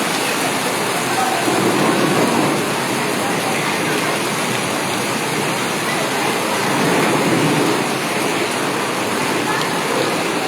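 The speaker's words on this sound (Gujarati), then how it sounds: "બહુ વરસાદ છે" Heavy rain pours steadily in Haridwar, a dense, continuous wash of falling water that swells slightly around a couple of moments, with no clear voices standing out.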